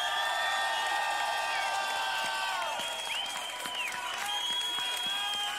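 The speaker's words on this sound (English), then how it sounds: "Round of applause, Slizzer." Steady audience applause at a beatbox loop station battle, with a dense wash of clapping throughout and high whistling tones layered over it.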